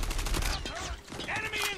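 Gunfire in the mobile shooter game Call of Duty Mobile during a ranked hardpoint match, a quick burst of shots mixed under game voice lines and background game sound.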